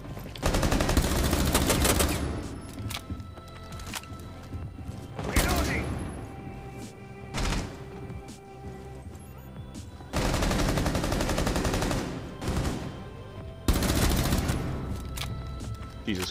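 Gunfire in the Rainbow Six Siege video game: loud bursts of automatic fire in several waves with sharp single shots between, and a voice talking over parts of it.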